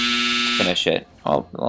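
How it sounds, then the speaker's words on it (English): A laundry dryer's buzzer sounds for about half a second as a steady electronic tone in the background, then someone talks over game audio. "that's the laundry buzzer that just went off."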